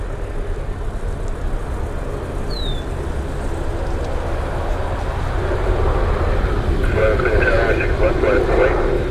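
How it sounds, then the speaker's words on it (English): A Saab 340 turboprop at Cleveland airport makes a steady, moderately loud engine drone from some distance, with a broad rushing roar that swells slightly toward the end. "I think it's a Saab 340."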